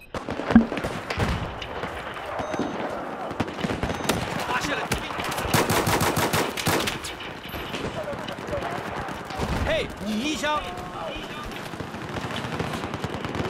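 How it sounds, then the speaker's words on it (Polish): Rapid bursts of automatic gunfire and scattered shots crackle in Battlefield 4 deathmatch play, dense in the middle and fading to sporadic reports, with a player talking over the battle. "Z każdej strony strzelają"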